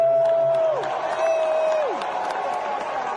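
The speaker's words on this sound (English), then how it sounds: "Give it up for that guy getting kicked out of the show" An audience at a comedy show at Mike's Redbar applauds and cheers in a steady wash of crowd noise, with a whistle-like tone gliding downward twice above the din.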